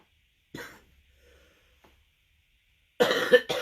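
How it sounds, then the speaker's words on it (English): A coughing fit: a sharp cough, a faint pause with small throat sounds, then a burst of harsh, close coughs at the end, heard alone without talk. "I started having a little coughing fit."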